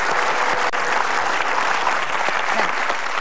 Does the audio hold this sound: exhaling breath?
no